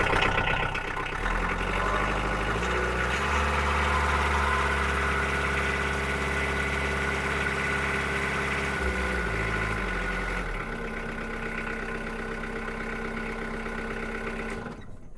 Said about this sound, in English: I'll show you as I rev it up that it's a nice smooth engine.